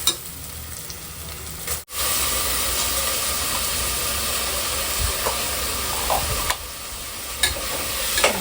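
Ginger garlic paste fries with softened onions in a pan for biryani, giving a loud, steady sizzle and hiss throughout, briefly cut off once and then resuming, with faint stirring scrapes.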